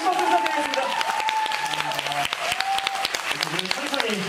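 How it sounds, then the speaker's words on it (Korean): Audience applause sends two musical actors off at a post-screening talk event, sustained clapping throughout with a voice speaking over it. "뜨거운 박수로 이제 두 분 보내드리도록 하겠습니다. 큰 박수 부탁드리겠습니다."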